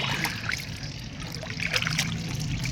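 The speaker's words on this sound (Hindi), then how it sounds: "पानी भी बहुत अच्छा आ रहा है," Tap water trickles steadily onto wheat being washed on a rooftop, a soft continuous splashing and dribbling, close and moderately quiet with no talk.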